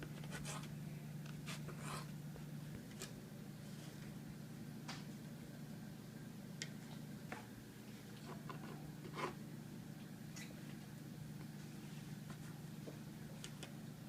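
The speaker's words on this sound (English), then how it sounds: "go ahead and slice up our bread so we can make cubes" A knife cutting sourdough bread into cubes, soft repeated crisp slicing strokes against a faint steady background hum, quiet and close, no talking.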